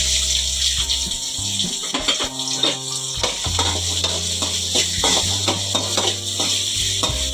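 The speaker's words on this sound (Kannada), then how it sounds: "ಈರುಳ್ಳಿ ಸ್ವಲ್ಪ ಫ್ರೈ ಆಗಬೇಕು, ಬ್ರೌನ್ ಕಲರ್ ಬರೋ ಗಂಟ ಫ್ರೈ ಮಾಡ್ಕೋಬೇಕು" Chopped onions fry in a pan for a leafy greens stir-fry, a steady sizzle with repeated scraping stirs of a spoon, close and continuous without talk.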